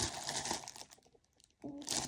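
New stationery, a pencil case and colouring book, being unwrapped up close, with bursts of crinkling plastic packaging separated by a short quiet pause.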